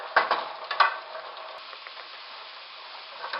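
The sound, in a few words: peppers and onions cooking in a pot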